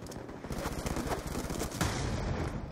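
Rapid automatic gunfire from a first-person shooter video game, a dense, sustained burst of closely spaced shots at steady loudness across the whole stretch, with no talking over it.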